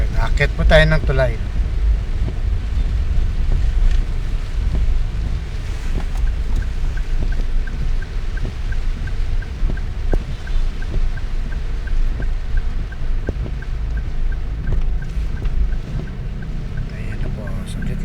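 Heavy rain and gusty wind by the Pasig River in Manila make a constant loud wash of noise with microphone buffeting, and a brief voice is heard near the start.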